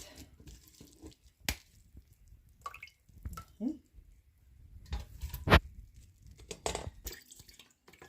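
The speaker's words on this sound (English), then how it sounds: "and here I'm getting out all the juice out of it, and it's going to come out so thick." Sorrel is squeezed and strained to pull out thick juice, producing scattered wet squishes, drips and splashes close by, with a few louder sloppy bursts between quieter moments.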